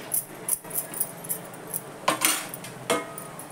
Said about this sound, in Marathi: त्याच्यावर घट्ट बसेल असं झाकण ठेवते